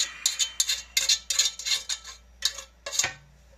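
A fork clinks and scrapes against dishes while mixing noodles for a chicken bacon ranch hotdish, in quick, uneven bursts, bright and close, with no talking.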